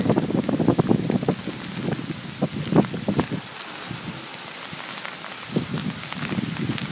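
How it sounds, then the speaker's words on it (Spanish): A hailstorm in Germany pelts down in a steady, dense patter of strikes close by, with louder bursts of impacts early on and a calmer stretch in the middle. "primer video que hago en una tormenta de granizo"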